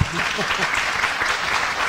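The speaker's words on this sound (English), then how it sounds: "You may clap." Steady applause from a crowd at a House District 45 candidates' meeting, dense and continuous with a faint voice briefly underneath at the start.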